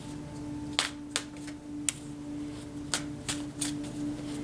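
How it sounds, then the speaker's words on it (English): A deck of cards is shuffled by hand in a quiet room, giving a handful of soft, scattered riffling snaps. "I usually just shuffle until I have either the number of cards that I'm looking for"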